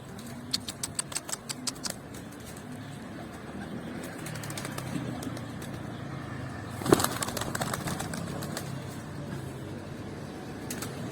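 Pigeons beat their wings in quick bursts of sharp flapping, first near the start and again later, over a steady low hum of a distant engine or traffic.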